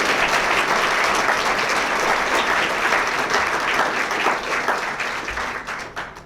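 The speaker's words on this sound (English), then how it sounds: "Can we give a round of applause to the special guest?" Sustained applause from an evening lecture audience welcoming a special guest speaker, steady and dense throughout before tapering slightly at the end.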